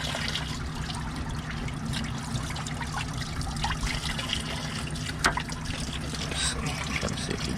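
Coolant trickles and splashes steadily from a disconnected radiator hose on a 2012 Jaguar XF with the 5.0L engine, a continuous close liquid pour with a faint clunk partway through.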